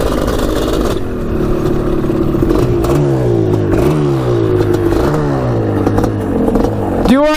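A 250cc two-stroke quad engine, a Kawasaki Tecate or Suzuki Quadracer, runs close and loud, revving repeatedly with rising and falling buzzy pitch sweeps, ending in a sharp high rev.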